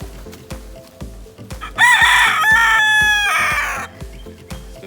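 A rooster on a farm alongside Kune Kune piglets lets out one loud, drawn-out crow close by, preceded and followed by softer clucking and a repetitive background rhythm.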